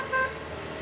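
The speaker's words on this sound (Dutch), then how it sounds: "3 keer toeteren." A car horn gives one short, fairly close toot over a steady background of traffic noise in the city of Groningen.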